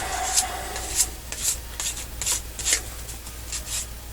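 Rhythmic scuffing strokes across a wooden chess piece's polyurethane clear coat, a soft repeated rasping rub about twice a second, close and steady with no talk.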